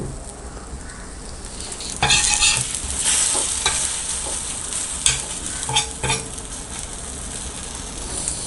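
Onion kalakki fries in an oiled pan while a spatula keeps stirring and turning it. A steady sizzle is broken by sharp scraping bursts and clacks, loud and close, with no voices.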